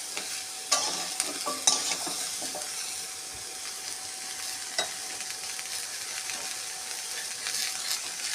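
Mixed vegetables with green chillies and soybean sautéing in a pan, a soft continuous sizzle with clinks and scrapes of stirring and a faint steady tone, close and without talk.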